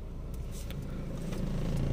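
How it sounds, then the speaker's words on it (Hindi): A Renault Duster engine pulling away slowly in first gear, a low steady rumble that builds gently, close and moderate, with no talk over it. "अब फर्स्ट गियर में है गाड़ी"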